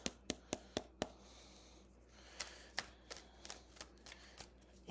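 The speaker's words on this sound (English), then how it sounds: "These are the classic tarot cards" Tarot cards being shuffled: a run of sharp, close card snaps and riffles, loud at first, then a softer rustling stretch before more crisp flicks, with no voices.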